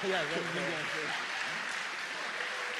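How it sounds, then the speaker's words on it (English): A crowd at a longsword fencing tournament gives the medalists a standing ovation. The clapping is dense and sustained, and a voice talks over it at the start. "Standing ovation from the crowd."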